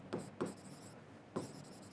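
Handwriting during a thermodynamics lecture, probably chalk or marker strokes on a board: three short scratchy strokes spaced apart, faint and close, with no talk over them.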